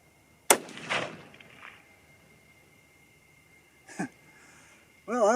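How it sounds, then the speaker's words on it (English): A single sharp, loud crack of a 6.5 Creedmoor rifle firing a 100-grain bullet at a range, with a short echoing tail, then quiet and a few faint handling sounds. "Cold, clean barrel, first shot's the most important."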